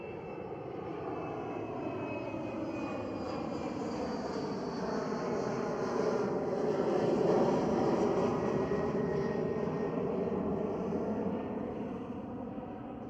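A KLM Cityhopper Embraer E190 jet at Schiphol Airport roars with a steady, broad engine whine that swells to a peak midway and then slowly fades, loud and unbroken with no talking.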